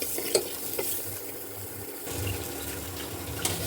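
Drumsticks frying with softened onions in a pan, a close steady sizzle with a couple of brief utensil knocks and a swell of hiss partway through, no voices.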